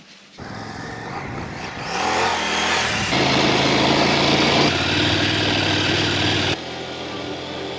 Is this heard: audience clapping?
no